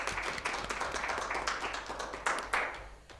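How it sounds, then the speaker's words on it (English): Attendees at the Women's Institute annual conference in Wales clap together, a lively patter of many hands with distinct individual claps that gradually thins and fades out. "So a special clap from me."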